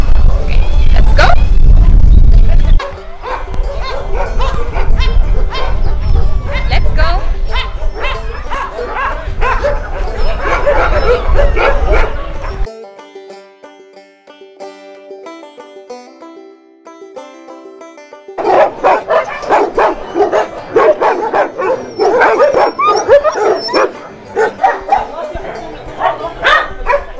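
A crowd of small dogs in a shelter barks and yips loudly and constantly in rapid overlapping bursts, dropping away briefly to a quieter stretch before the frantic barking resumes, with a voice speaking over parts of it.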